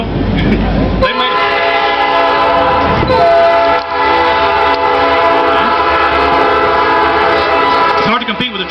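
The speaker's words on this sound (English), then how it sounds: "It's hard to compete with a train." A passing train sounding its horn, a loud sustained multi-tone blare over rumbling rail noise close by, with brief breaks and voices faintly underneath.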